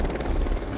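Helicopter hovering close beside a high-voltage power line, its rotor producing a steady, loud, continuous throbbing roar with no pauses.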